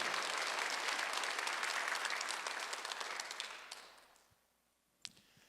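A church congregation applauds during a Sunday worship service, a dense, steady wash of clapping for about four seconds that then thins out and fades, leaving near silence with a few scattered late claps.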